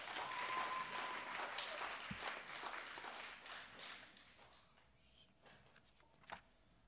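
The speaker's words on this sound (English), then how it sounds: "If you will give them a round of applause," An audience at a spelling bee claps for the contestants, a soft, distant-sounding round of applause that thins out gradually over several seconds, with a few scattered claps and a thump near the end.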